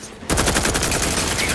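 Rapid automatic gunfire in The Outer Worlds 2 bursts in after a brief quiet, a fast even string of loud close shots continuing to the end.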